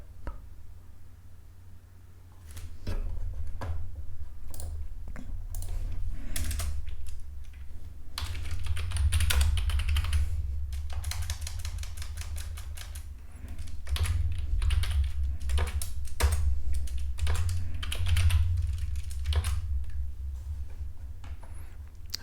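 Someone types code on a computer keyboard in fast, irregular bursts of close, crisp key clicks, with brief pauses between runs of keystrokes and no speech.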